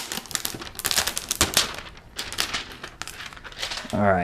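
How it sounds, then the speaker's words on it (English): Crinkly plastic packaging of a portable tire inflator being unwrapped, with rapid irregular crackles and rustles close up, interleaved with a person talking. "how do I unwrap?"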